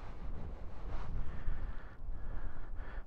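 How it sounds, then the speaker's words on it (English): Heavy wind buffets the microphone in a continuous low rumble during a ride on a 2022 BMW R18 Transcontinental motorcycle, with gusts swelling and briefly dropping, and no other sound standing out. "Sorry for any of the wind noise you hear today."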